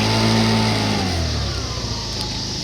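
An old restored scooter engine revs up close, then its pitch sweeps down as the revs drop, over a constant windy hiss.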